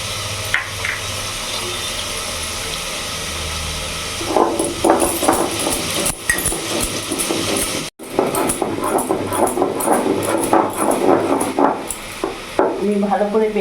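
Ginger, cumin and green chili being ground on a stone slab (shil), heard as close rough rhythmic scraping and rubbing strokes that begin partway through and continue steadily, with some quieter kitchen noise before.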